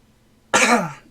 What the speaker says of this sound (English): and he coughs a little.